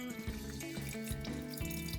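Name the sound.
water running from tap to chill cooked green peas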